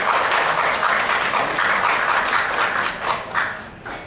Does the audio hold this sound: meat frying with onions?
no